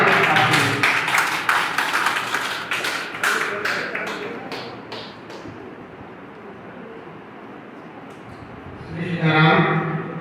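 Audience at a Hindu trust honour ceremony clapping in a loud burst of applause that thins out and fades over several seconds, with a voice speaking near the end.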